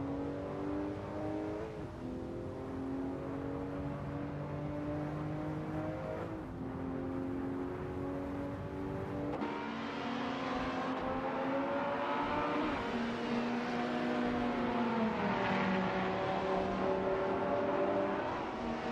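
Hypercar engines in a racing simulator game roar and rev continuously, with rising and falling pitch as gears shift and several cars pass, loud and close throughout with no talk.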